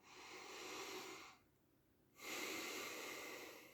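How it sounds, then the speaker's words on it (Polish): Slow, deep breathing demonstrated close up: a long airy inhale, a brief pause of near silence, then another long breath, soft and unaccompanied by talk. "Musicie oddychać po prostu bardzo głęboko."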